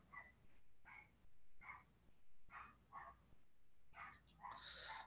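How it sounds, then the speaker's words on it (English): Several dogs bark in repeated bursts at a house, seemingly set off by a garbage truck outside, fairly close and moderately loud, with a busier cluster of barks and yips toward the end. "As you can hear, I have dogs."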